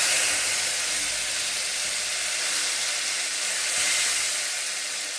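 Bay leaf and coriander-cumin paste fry in oil in a pan, a steady, even sizzling hiss that carries on unbroken for several seconds with no talk over it.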